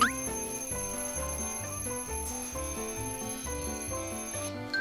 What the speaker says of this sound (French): Léonard, éteins ce son. C'est pas moi, j'ai même pas mis de réveil